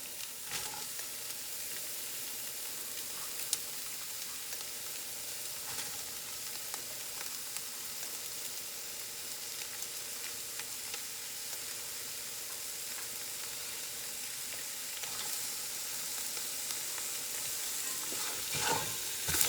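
Vegetables, carrots among them, sizzle steadily in a pot for soup while being stirred, a soft continuous frying hiss with occasional scraping clinks, close and fairly quiet.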